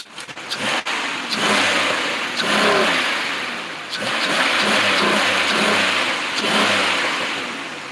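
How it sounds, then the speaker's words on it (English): A car engine revs and accelerates during a test drive up the street after a motor treatment, a steady loud drone that swells and holds with broadband road and wind noise. "right now we're gonna test drive it, run it up the street"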